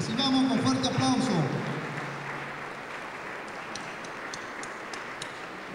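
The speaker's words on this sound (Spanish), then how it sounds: "Recibamos con fuerte aplauso." An audience applauding to welcome guest speaker Félix Jiménez at an evening event, a soft, steady patter of clapping that fades after a brief announcer's voice at the start.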